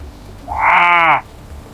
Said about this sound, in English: This is a sheep. The sheep says,